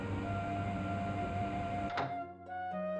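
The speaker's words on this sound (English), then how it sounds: "The dryer spun down to a forced halt." Drying machine in a visual novel game spinning down after its door is yanked open mid-cycle: a steady mechanical hum and whir runs, then cuts with a clunk near two seconds, leaving a quieter fading drone.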